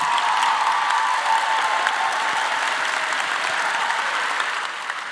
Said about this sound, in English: Please give a round of applause to your families.